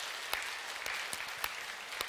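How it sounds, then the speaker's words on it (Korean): A church congregation claps for the Zion choir after a Sunday sermon, steady applause with a few louder individual claps standing out, fairly soft and even throughout. "우리 시온 성가대 박수로 함께 영광을 돌리겠습니다."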